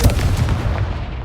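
In Hogwarts Legacy, the Confringo spell explodes with a close, heavy boom at the start, then a rumbling tail that fades over about a second.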